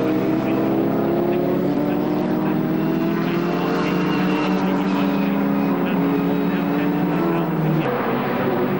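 Vauxhall Lotus and Vauxhall Reynard single-seat racing cars in a 2002 Monoposto Championship race scream past one after another, a sustained loud engine whine rising and shifting in pitch, with commentary talk running over it.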